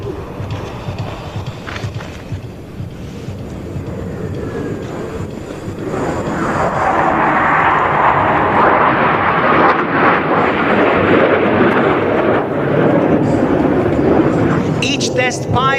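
An M-346 jet performs a wide Alpha Roll display maneuver at an air show, its engine roar building from a distant rumble into a loud, sustained broadband whoosh overhead, with a commentator talking throughout.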